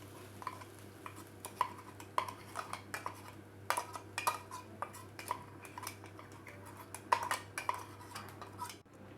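A spoon stirs a spice and ground roasted coconut mixture in a pan for Kerala-style chicken curry, giving a rhythm of light metallic scrapes and clinks against the pan over a steady background hum, with no talking.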